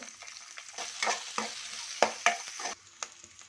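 Green chilies, ginger and garlic fry in a pan, a soft steady sizzle broken by a few sharp scraping stirs of a spoon, close and moderately quiet with no talking.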